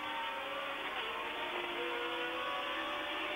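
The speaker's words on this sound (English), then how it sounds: "Jody Scheckter going round the parabolic, accelerating out, up, over the crest" A 1979 Formula One car accelerates out of the Parabolique corner at Dijon-Prenois, its high, continuous engine scream rising in pitch as it pulls up over the crest, loud and unbroken for the few seconds.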